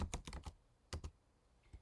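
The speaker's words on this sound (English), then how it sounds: "You can specifically type the name of your ad" Computer keyboard keys clack as an ad name is typed, first in a quick burst of several strokes, then a pause, then two more taps and one faint final press, close and clear with no talking.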